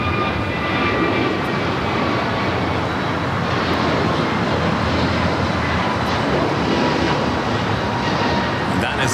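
An American Airlines A321neo jet bound for Miami is at Los Angeles airport, its broad, steady engine roar filling the scene at constant loudness, with no voices over it.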